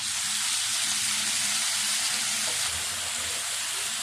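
Shrimp fry in hot oil with a loud, steady, bright sizzle and hiss that fills the whole stretch, close up and continuous, with no talking.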